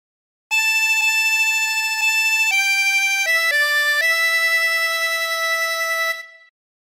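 A 24-hole tremolo harmonica in C plays a phrase of House of the Rising Sun, a string of sustained, wavering reedy notes stepping up and down, loud and close, alone.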